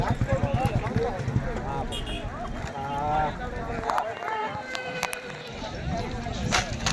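Marwari horses run in a race ring, their hooves drumming in rapid rhythmic clip-clop at moderate distance, while people shout and talk over them throughout.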